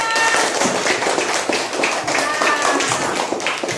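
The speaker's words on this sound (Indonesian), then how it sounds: "Ayo tepuk tangan untuk kita semua." Schoolchildren in a classroom clap their hands together, a busy, uneven run of close, sharp claps with children's voices mixed in.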